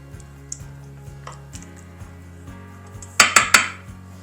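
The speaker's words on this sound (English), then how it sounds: "just spoon it out on top of those tortillas" Spoonfuls of sauce land on tortillas in a casserole dish, soft scraping taps at first, then three sharp, loud clinks of a metal spoon against the dish close by, with no talking.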